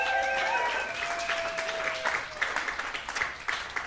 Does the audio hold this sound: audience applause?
yes